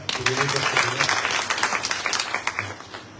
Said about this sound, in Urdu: میں سواگت کرتا ہوں نوین جی کا بھی ایک بار تالیاں بجائیں